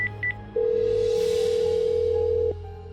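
Two short keypad beeps from a mobile phone give way to a long steady ringback tone lasting about two seconds, clear and close over a low background hum.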